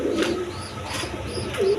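Pigeons coo on a farm, with several distinct rolling coos rising above a soft background murmur of the flock, fairly close and clear, without talk.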